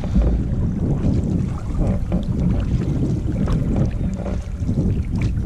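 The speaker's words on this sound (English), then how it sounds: "we've got the wind at our back now" Wind roars steadily while canoeing across Carp Lake in the Boundary Waters, a loud, continuous low rumble of gusts buffeting the microphone with no break.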